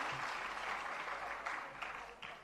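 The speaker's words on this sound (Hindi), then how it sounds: "जरा जोरदार तालियां" An audience at a Jain religious question-and-answer gathering claps in steady, sustained applause, fairly distant and even, tapering slightly toward the end.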